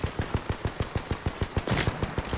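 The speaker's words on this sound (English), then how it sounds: "They're shooting at me." Rapid automatic gunfire in Apex Legends, a steady loud stream of about fifteen evenly spaced shots over two seconds, with no talking.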